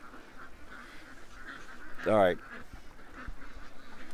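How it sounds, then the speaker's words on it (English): A single loud honking quack from a duck rings out in the middle, close by, against low outdoor rumble and a few brief spoken words. "Oh, ducks."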